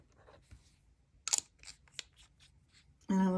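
A metal nib on a Kaweco fountain pen scratches across paper in a few short, crisp strokes, close and fairly quiet, before a voice begins speaking at the end.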